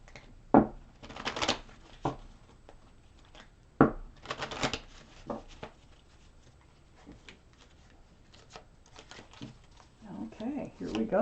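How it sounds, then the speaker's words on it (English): Tarot cards riffle and shuffle in bursts of soft papery flutter and slaps, fairly quiet and close, with brief pauses between handfuls. "Let's take out more cards for your reading, Leo."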